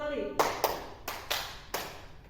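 Five crisp hand claps land in short uneven groups during a counted clapping exercise, close and clear, with a voice heard briefly before them.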